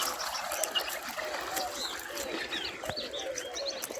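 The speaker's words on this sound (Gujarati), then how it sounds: "આ બાજુ તમે ખૂણામાં જો પાણી ચાલુ હોય જો" Water runs and trickles in a corner of an outdoor farmyard, a faint continuous burble. Scattered bird calls chirp in the background.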